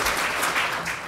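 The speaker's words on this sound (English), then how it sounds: "Let's hear another round of applause for them." A brief burst of audience applause at an aerospace lecture series event, a steady, dense patter of clapping heard alone for about a second.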